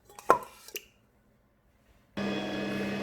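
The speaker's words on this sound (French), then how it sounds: "Donc je commence par fouetter les œufs et le sucre." Electric mixer whisking eggs and sugar for a Tunisian délice cake, starting abruptly after a few short clatters and running as a steady, loud, droning whir with a constant motor hum to the end.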